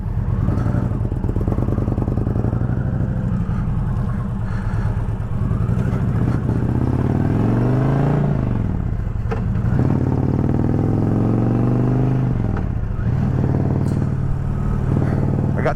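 An Indian motorcycle is ridden at steady speed, its engine droning loud and close under rushing wind, with the pitch rising and dropping through several gear shifts.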